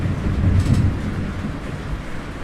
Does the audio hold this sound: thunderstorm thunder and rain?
yes